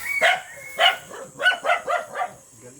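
Several sharp barks from a nearby dog, two spaced out at first, then a faster run of four or five.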